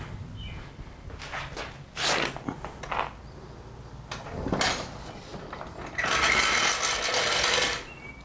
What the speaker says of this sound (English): Torque these lug nuts.